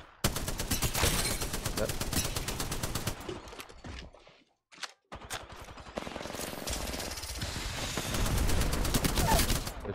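Rapid automatic gunfire from the battle royale game Apex Legends, loud continuous bursts of shots with a brief pause midway, then more sustained firing, while a player speaks briefly over it.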